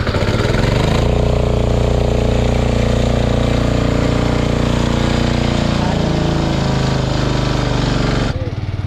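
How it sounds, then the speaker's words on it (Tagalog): A repaired Yamaha motorcycle's exhaust runs steadily up close, a loud continuous engine drone with a low rumbling tone that holds for most of the stretch before cutting off near the end. "Ito na yung tambutso niya."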